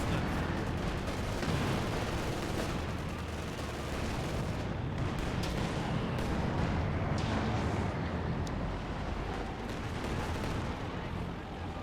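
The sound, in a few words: Katyusha rocket artillery fire in video game Company of Heroes 2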